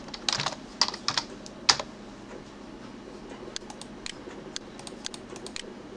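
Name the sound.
typing a first name on a computer keyboard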